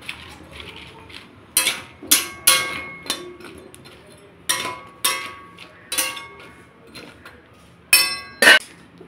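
Food stirred in a pot after water is added, a spoon knocking and clinking against the metal sides in a series of sharp, irregular strikes, close and fairly loud, with no voices.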